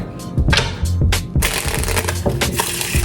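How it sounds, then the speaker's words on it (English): Rapid papery riffling and flicking of a deck of cards being shuffled, close up, in a few quick bursts. "So I'm going to start out by shuffling the deck."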